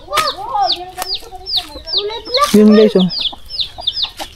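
Three chickens, including a Texas-type rooster, cluck in short repeated bursts at close range on a farmyard visit, with someone speaking briefly between the calls.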